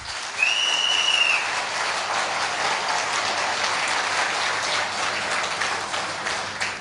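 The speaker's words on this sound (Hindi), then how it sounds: "एक बार अपने लिए जोरदार तालियां बजा लीजिए प्लीज।" An audience at a motivational talk on hobbies and habits breaks into loud, sustained applause that starts abruptly and stays dense and even throughout, with a brief high whistle early on.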